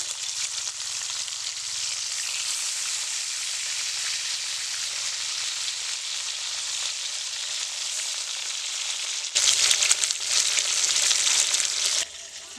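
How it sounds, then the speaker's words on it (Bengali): Bata fish pieces fry one by one in hot oil for a Bengali tel jhal, giving a steady, loud close sizzle that swells briefly louder near the end. "তেলটা আমার গরম হয়ে গেছে আমি এক এক করে মাছগুলো দিয়ে দিচ্ছি"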